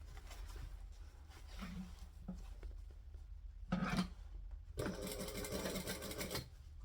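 Sewing machine stitching along the sides of a fabric piece, with a short burst near the middle and then a longer steady run of rapid mechanical stitching toward the end, close and moderately loud.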